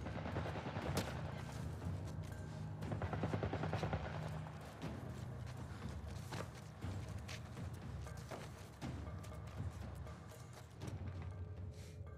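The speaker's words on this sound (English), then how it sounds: "Some kind of military turret." A military turret firing in The Last of Us Part 1, a dense run of rapid gunshots over a low rumbling bed, steady and fairly distant, with almost no talk.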